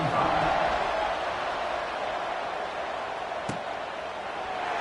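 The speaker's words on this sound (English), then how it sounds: "this crowd is buzzing after that last score" A college football stadium crowd at a North Carolina State game gives off a steady, dense roar before the kickoff, with one sharp thud partway through.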